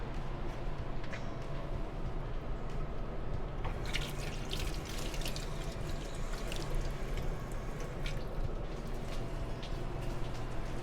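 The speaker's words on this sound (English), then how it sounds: "I can wash my hands." A tap runs steadily as hands are washed beneath it, a faint continuous splash with brief wetter spatters midway, no talk over it.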